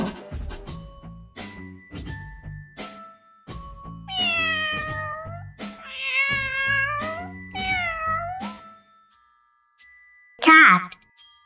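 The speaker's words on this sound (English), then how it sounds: "Cat," A domestic cat gives several drawn-out, close, clear meows with rising and falling pitch, followed by a short bright chime; a voice speaks briefly at the start.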